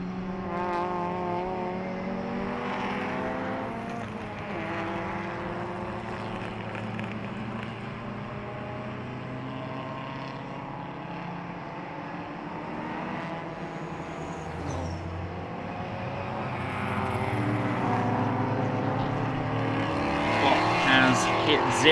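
A BMW E30 M3 race car at the Jarama Classic runs under the loud, continuous roar of several racing engines on track, swelling louder toward the end, with a voice talking over it.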